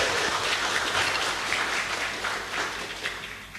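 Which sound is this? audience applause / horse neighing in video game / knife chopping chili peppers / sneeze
audience applause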